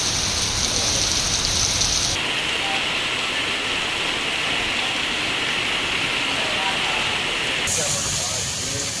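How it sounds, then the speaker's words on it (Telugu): Heavy rain pouring down across Hyderabad streets, a dense steady hiss of water falling and splashing on surfaces, loud and continuous with an abrupt shift in tone partway through. "పలు ప్రాంతాల్లో భారీగా వర్షం కురుస్తోంది"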